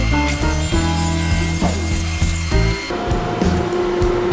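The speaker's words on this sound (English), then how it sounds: "So next step, trim the edges on this, and then we'll cut them to length" A saw trims the edges of a walnut and cherry end-grain chopping block, a loud continuous power-tool drone with repeated rhythmic cutting strokes and a brief dip near the end as the tone shifts.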